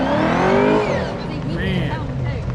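A Corvette at an autocross event at Beech Bend Raceway Park, its engine loud and close with rising and falling revving harmonics, over a crowd or commentator's voice.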